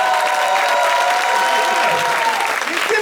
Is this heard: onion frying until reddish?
no